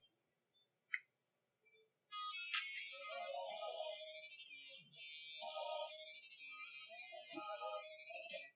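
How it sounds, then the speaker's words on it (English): An iPhone plugged in to charge starts playing the last song it played. The music comes from the phone's speaker, faint and thin, and runs steadily for several seconds after a couple of small clicks. "now it's going to play the most recently played song when I plug it in"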